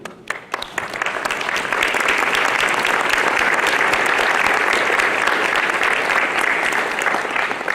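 A large audience at a high school NJROTC change of command and award ceremony breaks into loud, sustained applause that builds quickly and holds steady throughout.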